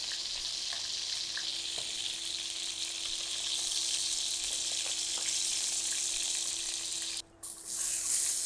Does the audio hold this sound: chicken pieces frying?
yes